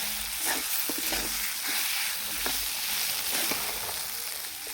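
A spoon stirs boiled potato into a frying spice mixture for aloo paratha filling, soft repeated scraping taps over a steady low sizzle.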